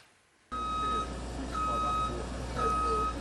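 A lorry reverses at a building site, its beeping alarm sounding a steady series of evenly spaced tones over a constant engine rumble.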